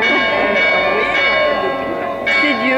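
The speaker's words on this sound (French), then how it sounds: "Ça tombe bien les cloches." Church bells ring loudly during a street demonstration, a sustained clanging peal with rich ringing tones, as people talk nearby.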